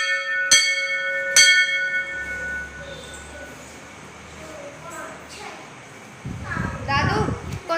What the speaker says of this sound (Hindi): साई मंदिर और यह इतना घंटी बजत है